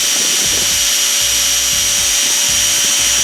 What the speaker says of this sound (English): we're just running the drill probably about half power right here on the barrel